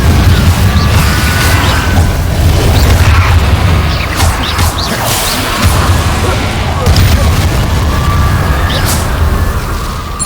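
Confringo blasting spells in Hogwarts Legacy, a loud continuous barrage of booming explosions and crashing impacts that keeps going throughout, with brief voices shouting over the blasts.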